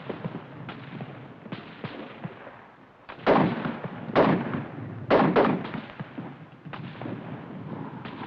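Mortar and artillery fire in a wartime battle: several loud, sharp blasts bursting out in an irregular sequence, with fainter pops and rumbling gunfire filling the gaps between them.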